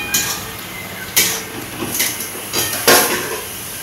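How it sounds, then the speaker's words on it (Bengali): Metal clatters on a cooking pot as it is handled and covered with a lid, four or five sharp clanks spaced across a few seconds, close by over quiet background. "তো আমি এখন একটু ঢেকে রেখে দেবো,"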